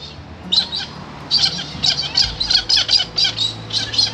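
Parrots squawk and fight at the Baxters Bushland roadside stop on the Nullarbor: a series of loud, harsh, close calls in quick irregular bursts over a low outdoor hum, with no talking.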